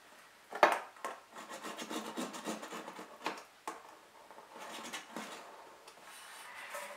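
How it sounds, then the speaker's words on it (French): A pencil drawing rounded corner marks on fabric for a sewn travel bag, a series of close scratchy rubbing strokes of varying length, with no talk. "je prends mon crayon et j'arrondis, donc je marque l'arrondi de mon angle"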